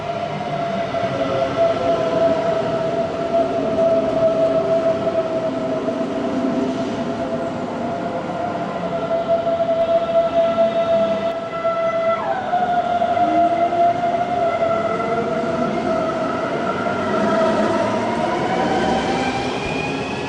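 S-Bahn S4 commuter train approaching München Hauptbahnhof, a steady loud rail rumble with a sustained tonal whine and a falling pitch shift midway, continuous for the whole stretch, no voices.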